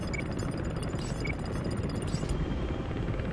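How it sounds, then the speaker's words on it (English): A helicopter in the video game Comanche drones with a loud, constant rotor rumble that fills the whole stretch, close and steady, with no voices. "Yep, sound like a chopper."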